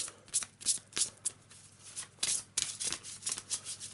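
A deck of cards is shuffled by hand, producing a quick run of crisp riffling bursts and soft slides, close and distinct, with no talking.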